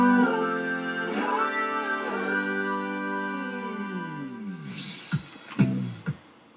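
A large, dry stack of layered harmony tones holds sustained chords in a song section, with a few sharp percussive hits near the end; no talking.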